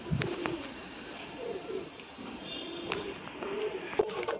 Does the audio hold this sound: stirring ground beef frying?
no